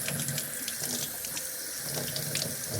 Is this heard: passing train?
no